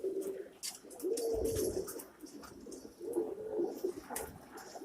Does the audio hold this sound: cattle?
no